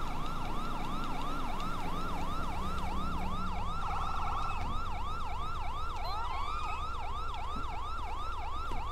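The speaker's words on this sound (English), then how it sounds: "Whose siren is on?" Wailing emergency siren in GTA 5 with the LSPDFR police mod, a steady up-and-down yelp repeating loudly throughout, with a second siren joining later over a low engine rumble.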